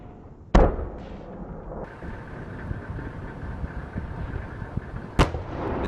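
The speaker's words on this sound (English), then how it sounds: "At the same time, Abrams attacks. He fires his first shot from a distance." An Abrams tank fires its main cannon at a building. Two heavy, sharp booms sound about five seconds apart, each followed by a low rumbling roar.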